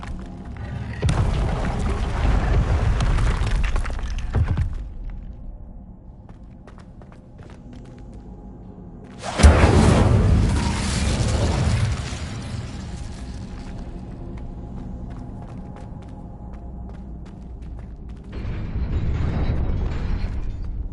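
Incendio fire spells cast in Hogwarts Legacy erupt in three separate whooshing, booming bursts. The second burst starts with the sharpest attack, and a quieter background rumble continues between the bursts.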